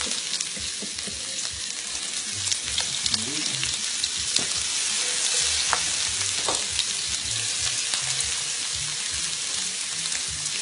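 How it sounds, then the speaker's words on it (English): Cajun-seasoned shrimp sizzle and crackle steadily in a hot pan, a dense continuous fry with occasional stirring clicks, close and fairly loud throughout. "hear that sizzle?"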